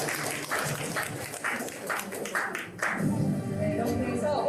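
A room full of people clapping steadily at a launch ceremony for a citizens' media watchdog group, a sustained round of applause with a voice speaking over it near the start.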